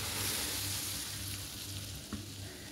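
Dough dropped into hot oil fries with a steady, close sizzle and bubbling crackle throughout, with a brief utensil tap near the end, in a home kitchen while making bosragh for Eid.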